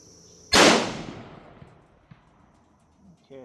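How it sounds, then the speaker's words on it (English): A single sharp, loud Remington 760 rifle shot cracks at an outdoor shooting range, its report decaying over about a second, followed by quiet background and a faint later knock. "so I just shot the first round, it shot low"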